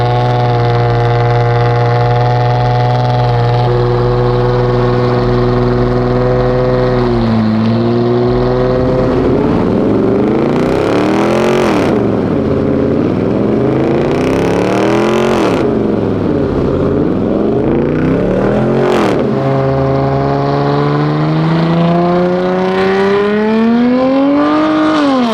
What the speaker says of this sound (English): You do a fucking burnout.